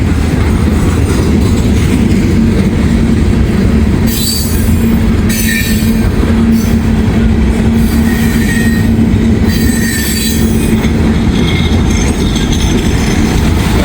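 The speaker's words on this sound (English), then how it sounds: "Got a train." Loud, continuous rumble of a passing Kansas City Southern freight train with rhythmic wheel clatter and intermittent high-pitched wheel squeals from a bad bearing, very close and steady throughout.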